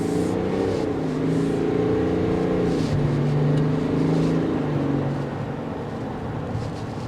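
A Chevrolet Tahoe RST gasoline engine accelerating, heard as a steady, loud drone whose pitch climbs, drops as it shifts and climbs again, then eases off near the end.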